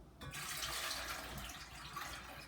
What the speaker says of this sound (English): I've already placed 2 cups of water in my stainless steel pot. I'm adding the other 4.